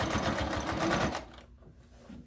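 Sewing machine running steadily as it stitches a fabric makeup brush holder, a fast, continuous whirring rhythm for about a second before it stops, leaving faint quiet.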